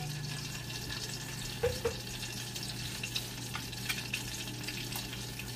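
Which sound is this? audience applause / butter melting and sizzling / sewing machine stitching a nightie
butter melting and sizzling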